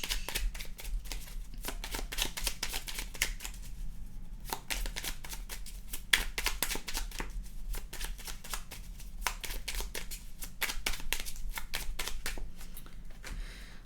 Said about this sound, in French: On va tirer une petite carte,